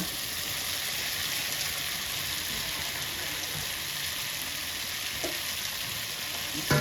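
Fried potato pieces and mushrooms sizzle in a pan with a steady, dense hiss, a few soft clicks of stirring breaking through near the end.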